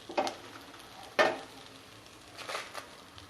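Golden onions and red chilies sauté quietly in a pan for an Andhra-style onion chutney, with a soft sizzle and a few distinct spatula scrapes, one sharp stroke followed by gentler stirring.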